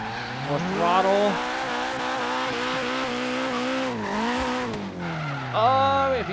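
Simulated car drifting in Forza Horizon 3, driven with a Logitech G920 wheel on simulation steering: a sustained engine note rising and falling with throttle, with tire squeal through the slides and a fresh rev surge near the end.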